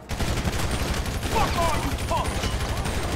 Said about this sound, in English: where's that other cop that's shooting me right now?